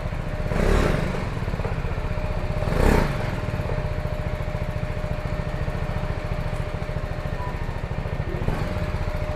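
A BMW G310GS motorcycle runs steadily nearby at a low, even engine rumble, with two brief louder swells as it pulls up.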